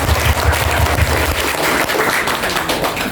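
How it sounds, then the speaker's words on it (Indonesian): A crowd claps steadily at a kindergarten event, with dense, continuous applause heard close and loud throughout. "Tepuk tangan untuk Panjenengan."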